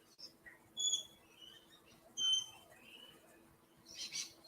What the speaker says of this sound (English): the birds are like, chip, chip